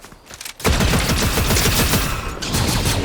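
Sustained automatic gunfire in Fortnite, loud and close, starting abruptly after a quiet moment and rattling continuously with dense rapid shots.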